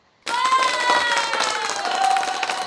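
An applause sound effect fires from a button on a show switcher: after a moment of silence, a burst of crowd clapping and cheering starts abruptly and carries on at a steady, loud level with some voices in the crowd.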